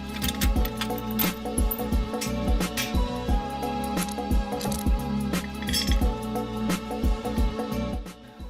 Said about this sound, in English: Now I dig into my parts bin and just get some hardware and bolts.